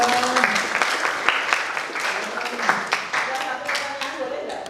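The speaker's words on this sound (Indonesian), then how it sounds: "Dennis Cannon, tepuk tangan sekali lagi teman-teman." Audience applause at an Indonesian talk-show style gathering, sustained clapping from a crowd with scattered louder claps, steady throughout and with voices mixed in beneath.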